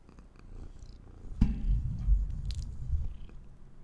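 A cat purrs steadily up close, a low rumbling drone with brief rustling bumps as it rubs against something nearby.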